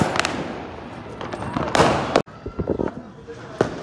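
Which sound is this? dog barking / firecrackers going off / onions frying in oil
firecrackers going off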